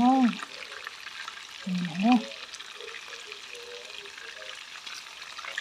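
Pork ribs frying in oil over low heat, a steady soft sizzle and crackle running throughout, with someone speaking briefly near the start.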